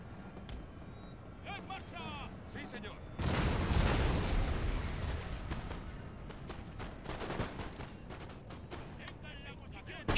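Volley of musket fire from line infantry in Empire: Total War, a broad roaring burst of massed shots that swells suddenly and then trails into scattered cracks over a steady battlefield din.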